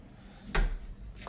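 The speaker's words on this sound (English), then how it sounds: "closes aggressively because of this hinge that they've placed on it" A small bathroom door in a house swings shut hard under a spring-loaded hinge, one sharp close thud standing out against a quiet room.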